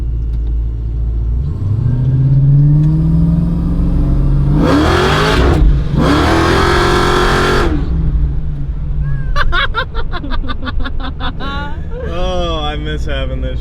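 A supercharged TH400 Dodge Hellcat revs hard and accelerates, its loud roaring engine rising in pitch through gear changes, with voices talking over it inside the cabin.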